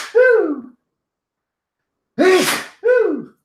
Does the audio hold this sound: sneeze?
yes